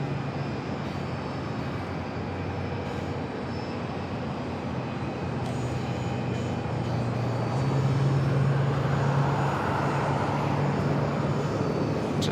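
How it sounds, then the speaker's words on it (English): An American Airlines Airbus A321neo arriving from Dallas Fort Worth lands on runway 8 at Phoenix Sky Harbor, a steady broad jet roar heard from a distance that swells louder and deeper about halfway through. "American Airlines 1974 coming in from Dallas Fort Worth on the A321 Neo."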